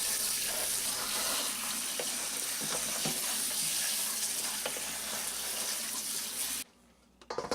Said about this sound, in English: we're going to drain these and rinse them very well